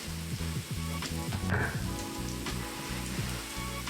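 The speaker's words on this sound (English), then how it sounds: "Go ahead and toss in our ginger and garlic." Ginger and garlic frying in cooking oil in an Instant Pot, a continuous close sizzle with bubbling crackle and a brief stir or clatter midway, no voices.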